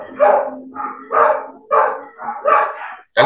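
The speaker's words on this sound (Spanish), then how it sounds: "¿Alguien está ladrando?" A dog barks in a quick series of sharp, loud yips and barks, close by, with short gaps between bursts.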